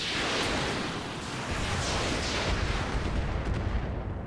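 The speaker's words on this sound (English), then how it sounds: "Gonna turn off a medium laser," Mech weapons fire in a video game, a dense run of rumbling, booming shots and blasts that carries on steadily without gaps, with no talking over it.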